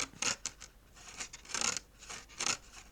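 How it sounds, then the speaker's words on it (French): A glitter-paper twist card on a handmade album page scrapes as it slides, giving a series of quiet, raspy rubbing strokes in an uneven rhythm. "On entend que ça racle."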